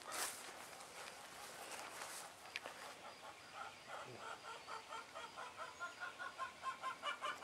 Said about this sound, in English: And somebody's in the coop laying an egg. That's what all the noise is about.